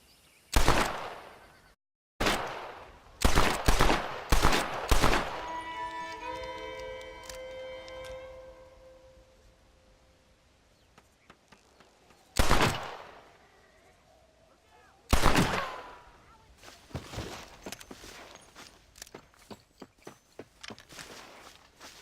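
Gunshots in Red Dead Redemption, loud sharp cracks in a rapid cluster of about five early on, then two isolated shots later with echoing tails, along with faint footsteps and hooves between them.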